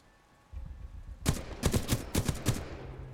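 A rapid volley of sharp gunshots crackles in short bursts over faint background noise, loud and close, with no talking, in the Titanfall 2 video game campaign.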